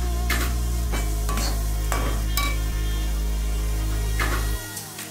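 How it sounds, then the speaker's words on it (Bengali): Thick green pea paste being stirred and fried in a wok on a gas flame, steady sizzle with repeated scraping strokes of a spoon against the pan, close and continuous until a quieter moment at the end. "এবার মটরশুঁটির পেস্টটাকে কড়াইতে ভালো করে ভুনতে থাকলাম যেন কড়াইতে নিচে লেগে না যায়"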